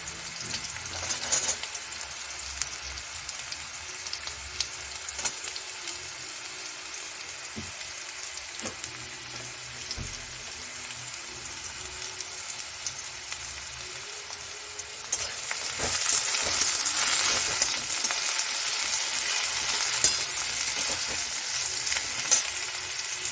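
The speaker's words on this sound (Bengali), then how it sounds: "একটু ভেজে আসার পর আমি পেঁয়াজটা দেব, আলুটা একটু টাইম লাগবে, আলু আর গাজরটা আমি দিয়ে দেবো এখন" Potato and carrot pieces fry and get stirred in a pan, a steady sizzle running throughout that grows louder and busier about two-thirds of the way through, with occasional scrapes of stirring and no voices.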